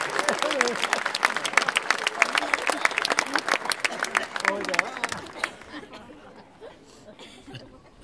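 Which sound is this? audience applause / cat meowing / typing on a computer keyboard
audience applause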